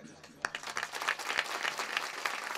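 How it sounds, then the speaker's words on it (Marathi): Crowd at a devotional kirtan gathering claps together in a loose, steady patter, moderately distant, with a voice speaking faintly beneath the applause. "तुम्ही मोकळ्या मनाने टाळ्या वाजवा"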